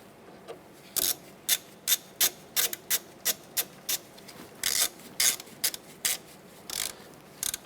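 A hand ratchet clicks in quick bursts while snugging bolts on a ball joint bracket of a 2008-2012 Honda Accord, about a dozen sharp close clicks in an uneven rhythm with brief pauses.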